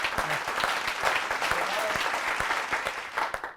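Audience at a Hindi poetry gathering (kavi sammelan) applauding to welcome a poet, steady dense clapping from a crowd throughout, fairly close and even, with a brief voice faintly beneath.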